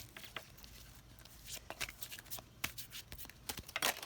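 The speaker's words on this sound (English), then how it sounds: "Shuffling big ass fucking cards" Oversized tarot cards are shuffled by hand in a steady run of soft riffling and slapping bursts, close and moderately quiet, with a few sharper snaps toward the end.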